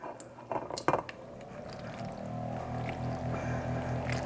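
Cooked macaroni noodles from a 16-ounce box poured into a dish, with a few wet slippery plops at the start and then a soft, continuous sloshing and sliding that goes on close by.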